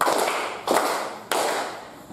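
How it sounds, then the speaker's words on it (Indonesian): Children clapping a 'tepuk hebat' cheer for James in a classroom, three sharp group claps spaced about half a second apart, each decaying quickly. "Tepuk hebat untuk James."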